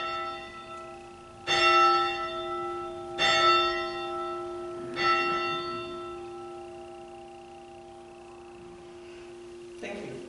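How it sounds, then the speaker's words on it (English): A church bell rings at a worship service: three strong strokes about two seconds apart, each leaving a long, humming ring that fades, then a fourth stroke at the end. Faint voices are heard in the background. "one of you ringing the bell"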